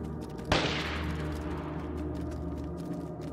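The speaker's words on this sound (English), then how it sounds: "That was like a nade and a gunshot in that direction" A grenade blast and gunshot in the survival game DayZ, heard as one sharp distant bang followed by a fading rumble over quiet ambience.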